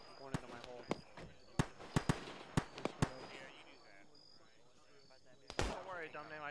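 Mortar fire in the military video game Arma 3: a string of sharp distant thumps and cracks in an irregular rhythm, then a louder burst near the end, with voices talking in the background.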